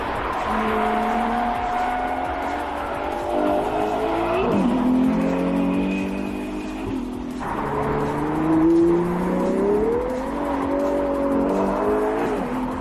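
A new Ferrari SUV, billed as the most powerful stock SUV, roars loudly through repeated rising revs and gear changes, its engine note climbing and dropping several times with a continuous close, full-throated exhaust growl.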